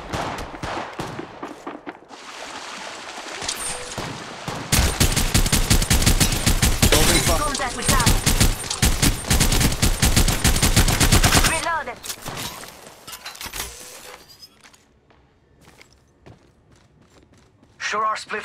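Heavy automatic gunfire rattles through a mobile battle-royale shooter match, dense bursts dominating the middle stretch and thinning toward the end, with voiced callouts over the shooting.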